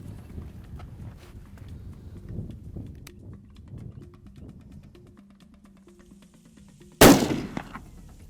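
A single loud rifle shot at a golden oryx in Namibia cracks out sharply after quiet footsteps and rustling, followed by a short fading echo.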